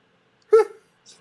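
One sharp dog bark, played back from a video, sounds close and clear against silence, followed by a faint trailing noise.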